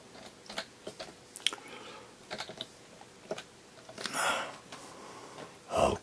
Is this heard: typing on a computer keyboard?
yes